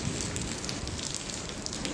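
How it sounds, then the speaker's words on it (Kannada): Rain falls steadily outside a hostel room in Vijayapura, a faint, even patter that stays continuous and uniform across the short span. "ಮಳೆ ಅಟ್ಟೆ ಬರ ಸಣ್ಣ ಬೀಳತ್ತದ ರೀ"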